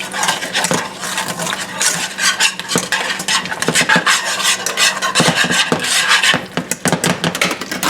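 Heavy whipping cream and cornstarch whisked together in a small bowl, a close, steady scraping rasp of the whisk against the bowl with quick irregular strokes and occasional sharp clinks.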